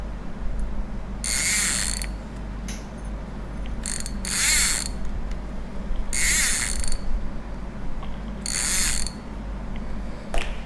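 A Daiwa Revros LT spinning reel's adjusted clicker rattles in four separate bursts of fast, bright ratcheting clicks, each lasting under a second, with quiet pauses between.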